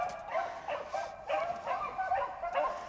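Beagle hounds bay while running a rabbit, their repeated yelping cries rising and falling in an irregular chorus at a moderate distance outdoors, with no voices over them.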